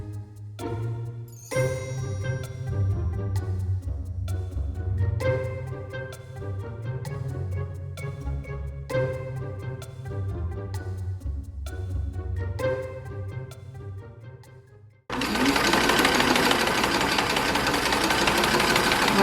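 A sewing machine stitches the shoulder seams of Edwardian combinations with a steady, close mechanical clatter in bursts, and a loud, harsh noise takes over for the last few seconds.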